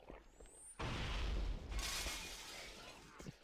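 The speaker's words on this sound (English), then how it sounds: "Shatters all the glass" Glass shatters in a single loud crash inside Halo: Combat Evolved, a burst of crunching breakage that rings briefly and then trails off into fading debris.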